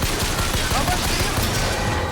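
Gunfire in the video game BioShock Infinite, a dense, continuous rattle of rapid shots under a steady wash of game noise, loud and close throughout.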